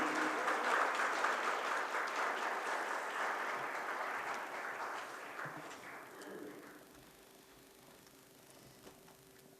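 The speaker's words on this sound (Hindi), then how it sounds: "जोरदार तालियों से अपना आनंद व्यक्त कीजिए।" An audience claps at a ceremony honouring the Governor at the Kaivalyadhama yoga institute, dense applause for about six seconds, then thinning out and fading to a quiet room with a faint steady hum.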